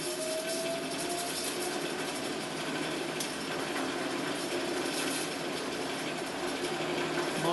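Electric motor fitted into a converted chipper shredder runs steadily on a bench power supply, a continuous close whine and hum holding an even level throughout with no talk.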